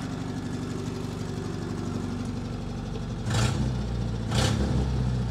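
An International Scout Terra engine runs at a steady idle, then two short revs come as the throttle is worked from inside the cab; the engine is close and moderately loud, with no talking.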